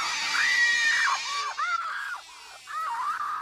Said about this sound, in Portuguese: ela tá sempre dando gritos estridentes